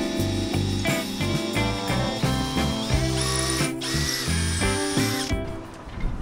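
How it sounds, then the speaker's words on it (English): A new power drill bores into a beam of a 42 ft catamaran, checking the wood for rot; the motor whines steadily and loudly throughout, rising in pitch midway before cutting off near the end. "also drilling into the other beam so I can see if there's any rot in the beams"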